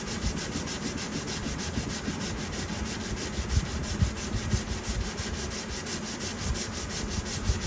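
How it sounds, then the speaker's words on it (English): Steady, rhythmic rubbing of a sanding sponge against a pine guitar body heel, a dense scratchy hiss that continues without pause, close up and moderately loud. "Why I like to use these sanding sponges is because they'll bend to the contour"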